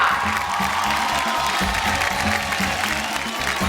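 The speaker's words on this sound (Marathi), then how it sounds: "एकदा जोरदार टाळ्या होऊन जाऊ दे." An audience at a Marathi TV game show claps and cheers loudly for a winner, a dense and continuous burst of applause with a rhythmic thump beneath it.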